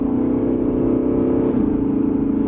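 A 2020 Lexus RC F Track Edition with a naturally aspirated V8 drones steadily under load as it accelerates, a continuous close engine rumble with a slight pitch shift midway and no talk over it.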